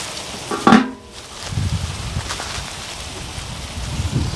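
Bread rolls toast on a hot griddle beside Philly cheesesteak filling, giving a steady low sizzling hiss with a brief louder crackle near the start.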